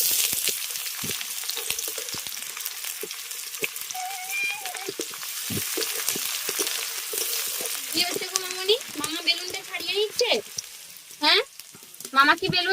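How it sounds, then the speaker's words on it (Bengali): Chopped onions hit hot mustard oil with bay leaf and five-spice, giving a continuous close sizzle and crackle of frying while someone speaks over it. "এবার দিয়ে দিচ্ছি কুচনো পেঁয়াজ"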